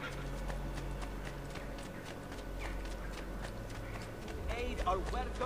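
A horse's hooves clip-clop in the video game Assassin's Creed 2, a steady, fairly quick beat of moderate loudness set against a continuous background bed, with a denser burst of game sounds near the end.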